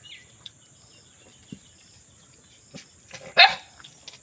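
A dog gives a single short bark, fairly distant, near the end of an otherwise quiet stretch with faint clicks and background hiss.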